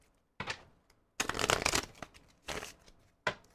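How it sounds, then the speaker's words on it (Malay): Tarot cards are shuffled and drawn in close, crisp bursts: a short riffle, a longer flurry of flicking cards, then two more brief shuffles and a snap, with quiet pauses between them. "saya akan menarik 3 kad untuk menjawab persoalan Cancer"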